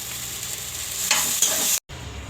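Chopped tomatoes for a sweet tomato chutney are stirred in a pan, giving a steady scraping sizzle for about two seconds. A brief total silence breaks it near the end. No voices are heard.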